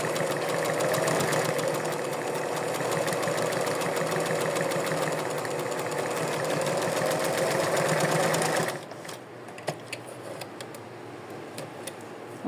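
A sewing machine runs a wide gathering stitch along a doll dress sleeve in one long steady whirring run, close up, then stops abruptly, leaving faint quiet handling noises.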